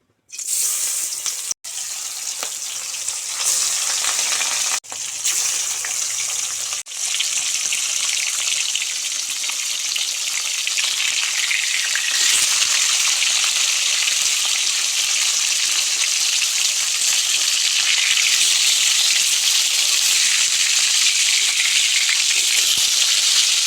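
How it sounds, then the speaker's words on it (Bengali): Loud, steady sizzling of catla fish, coated in turmeric and salt, frying in hot oil, a continuous bright hiss that swells after a few seconds and holds for the rest. "এবার গরম তেলে মাছটা ছেড়ে দেবো"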